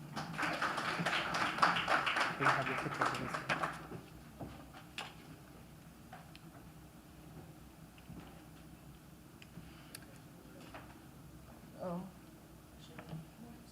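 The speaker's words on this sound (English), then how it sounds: "Give her a round of applause" A keynote audience at an early childhood education colloquium gives a few seconds of dense clapping that fades out, followed by quiet room tone with scattered small taps.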